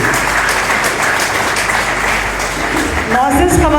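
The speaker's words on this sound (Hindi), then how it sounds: "भरपूर तालियां TWC के लिए।" Audience at a World Yoga Day event clapping loudly and steadily throughout, with a voice coming in over the applause near the end.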